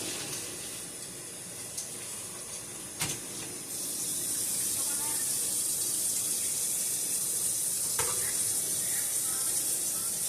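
Water runs from a kitchen tap over sauerkraut being rinsed in a sink, a faint hiss that swells into a steady, louder splashing rush, with a few clinks and handling sounds.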